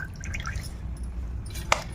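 Beetroot juice strained for dosa batter drips and trickles softly, with one sharper drop splashing near the end over a low background hum.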